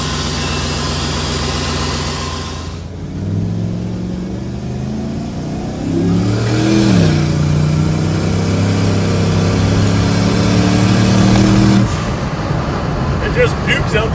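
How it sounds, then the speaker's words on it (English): An old truck fitted with a new turbocharger idles and revs, the engine and exhaust note climbing and growing louder with a steady low drone, with people talking over it. "As soon as you hear the exhaust get loud."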